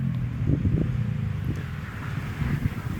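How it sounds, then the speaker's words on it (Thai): Traffic of motorcycles and cars passing along a roadside makes a continuous low rumble, mixed with wind noise, steady and moderately loud with no speech. "ก็จะมีเสียงรถมอเตอร์ไซค์วิ่งรถยนต์วิ่งนะครับ เพราะว่ามันอยู่ข้างทางนะ"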